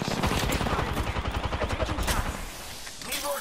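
Rapid automatic gunfire in Apex Legends, a fast close stream of shots rattling for about two seconds before tapering off, with a brief later burst.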